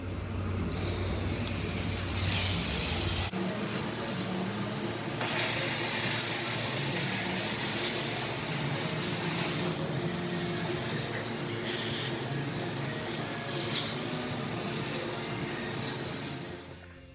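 A power washer blasts RC truck parts from a T-Maxx 4909 rebuild as a loud, continuous hissing spray of water. The tone shifts abruptly a few seconds in and then holds steady to the end.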